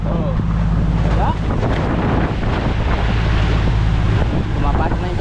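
Ocean waves wash and splash around a small fishing boat amid heavy wind buffeting the microphone, loud and continuous, with people talking over it.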